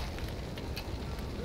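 Fire being set in the caveman-era video game Far Cry Primal, a dense, steady roar of crackling flame and rushing noise with no clear breaks, filling the short stretch without any voice.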